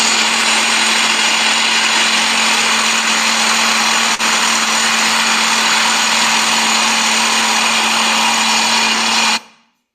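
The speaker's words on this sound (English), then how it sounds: "Automatic drill jumbo, we can see." An automatic drill jumbo, a mechanized tunneling machine working on a rail project, drones loudly and continuously with a steady hum, then cuts off abruptly just before the end.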